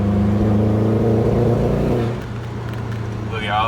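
A misfiring Subaru car accelerates uphill in third gear, its engine a loud, close, steady droning rumble that eases slightly after a couple of seconds before rising again.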